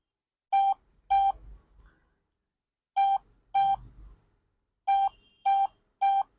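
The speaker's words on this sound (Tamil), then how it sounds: "ஸோ இதில் டைல் பண்ணலாம்." Keypad tones from a P67 Max smartwatch dialing a number, seven short electronic beeps in uneven groups of two, two and three, close and clear with no talking.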